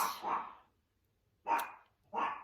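A dog barks three times in short bursts, with gaps of quiet between them, fairly close and moderately loud.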